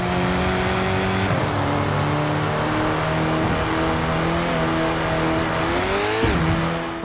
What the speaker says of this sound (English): I've got my foot to the floor on the accelerator